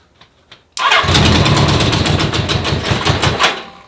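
An old school bobber motorcycle engine cranks and catches, bursting into a loud, close, rough running rumble that holds steady for a few seconds after a couple of faint clicks.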